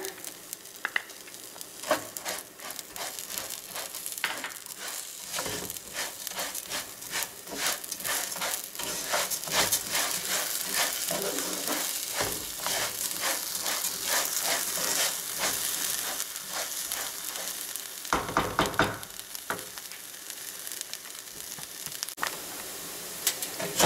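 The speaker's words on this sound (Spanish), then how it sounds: "Miren, tres minutos de freír aquí el arroz con la cebolla" Rice frying with a quarter of a chopped onion in a pan for red rice with chicken, giving a continuous bright sizzle with spatula scrapes and stirring, close up and without any voices.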